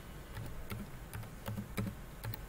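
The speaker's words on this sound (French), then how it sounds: "Donc, on va taper robe cocktail." Someone types on a computer keyboard, a run of light, irregular key taps spaced unevenly over a faint background hum, close by and moderately quiet.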